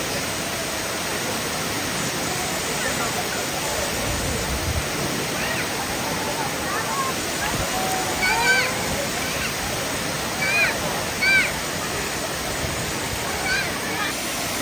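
Thusharagiri waterfall roars steadily, a broad unbroken rush of falling water that fills the whole scene at constant loudness, with a few faint chirps and small outdoor sounds barely rising above it.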